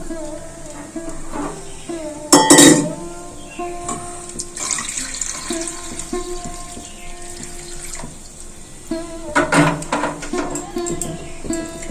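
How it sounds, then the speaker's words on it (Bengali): Bowls of water poured into a pot of rice being cooked as pulao, with a few distinct splashing pours near the mic against quiet kitchen background. "গুনে গুনে তিন বাটি জল দেব তিন বাটি জল দেওয়া হয়ে গেল"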